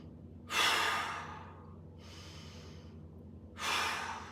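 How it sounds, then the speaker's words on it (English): Deep, slow breaths during a mobility exercise, two long airy exhales a few seconds apart with a fainter breath between, close to the microphone over a quiet background hum. "Ready? 5 big breaths."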